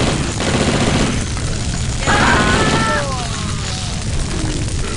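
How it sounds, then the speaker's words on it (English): Shotgun secondary fire in the video game Blood, a loud dense blast of gunfire filling the whole stretch, with a brief tonal burst in the middle and a voice talking faintly underneath. "Secondary fire on that shotgun is actually effective."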